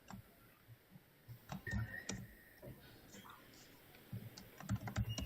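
Rapid, quiet clatter of typing on a computer keyboard, keys pressed in irregular bursts that grow busier toward the end, heard close beneath a faint background hum.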